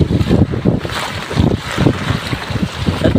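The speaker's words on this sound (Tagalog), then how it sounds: "Ang lakas ng hangin" Strong typhoon wind buffets the microphone in gusty, rumbling bursts in Sipalay City, a constant roaring whoosh with no voices.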